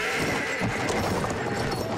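Horse neighing and hoofbeats in a First World War cavalry battle from the game Battlefield 1, a dense, loud wash of whinnies and galloping over continuous battlefield noise.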